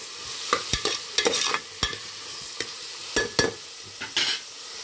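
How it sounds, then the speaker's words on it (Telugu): Onions frying on slow-medium heat toward golden brown, a soft continuous sizzle broken by repeated sharp scrapes and clacks of a spatula stirring in the pan, with no talking. "స్లో మీడియంలో పెట్టుకుని గోల్డెన్ బ్రౌన్ కలర్ వచ్చేదాకా వేయించుకోండి ఉల్లిపాయలు"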